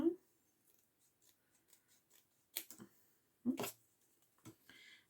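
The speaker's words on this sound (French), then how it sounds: "Je vais essayer de la couper correctement sans qu'on voit trop le blanc." Scissors cutting a paper card for a Christmas Advent card craft, giving a few crisp snips close by with quiet pauses between them and no talk.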